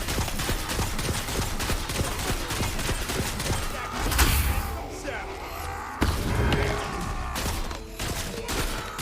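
Gunfire in the Tiny Tina's Wonderlands video game fires in a rapid, heavy barrage of sharp cracks and booms with crashing impacts, loud throughout amid chaotic combat noise.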